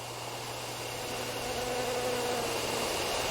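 Bees buzz in a horror adventure video game, a steady, dense drone that swells slightly louder partway through and continues without a break, with no voices.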